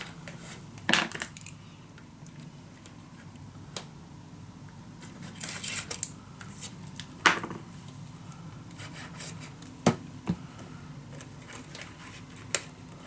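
Glued paper is rubbed down along its fold lines on a handmade mini album, giving soft scraping and rubbing strokes in scattered bursts with sharper taps and handling noises between them, close and fairly quiet.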